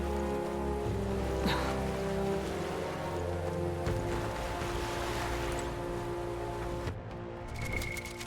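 Rain falls steadily in the Metaphor: ReFantazio video game, a dense hiss of drops under a low ambient music bed, sustained throughout with a slight dip near the end.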